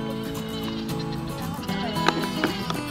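Goats about to be let out into a small run, giving a few soft bleats over a murmur of background noise, fairly faint and close.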